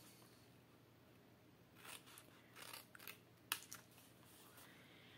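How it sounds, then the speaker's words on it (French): Scissors snipping paper along a fold while crafting an Advent calendar, a few quiet cuts, then a short sequence of crisp snips ending in one sharp closing snap, with no talking. "Je coupe en biais. Je coupe le long du pli"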